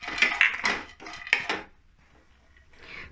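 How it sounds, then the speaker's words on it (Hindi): Cashews roasting in ghee in a kadhai, stirred with a spatula, giving close, bright scraping and clinking strokes of metal on the pan, a brief lull, then a soft sizzle and more scraping. "जरा सा घी डाल के हम इन काजू को भी थोड़ा सा रोस्ट कर लेंगे"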